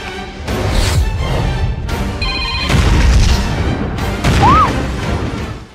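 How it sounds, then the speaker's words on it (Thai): A car bomb blows up in a Thai historical drama series: heavy, loud booming blasts and crashing debris roll on for several seconds, with dramatic music and a brief rising tone mixed in, and no speech. "ในรถเนี่ยมีระเบิด"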